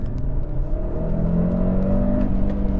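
Cupra Formentor VZ5 engine with DSG gearbox revving in manual mode, a steady loud drone whose pitch climbs gradually, with a faint whirring overtone.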